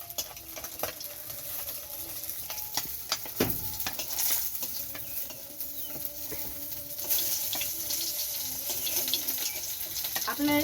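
Fish fries in oil in a pan at home, slightly scorched, giving a continuous soft sizzle with scattered crackles and clinks from utensils, fairly close but modest in level.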